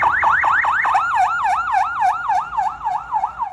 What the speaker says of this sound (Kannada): ಹೈಪರ್ ಎಲ್ಪ್ ಎಂಬ ಅತ್ಯಂತ ವೇಗವಾದ ಶಬ್ದವು